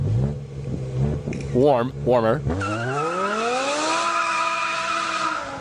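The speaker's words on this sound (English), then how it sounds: "So this is a valved exhaust." A V10 or V12 car engine revs through a valved exhaust with the valve closed, rising in pitch in sharp bursts then climbing into a long sustained howl, while a voice speaks briefly over the start.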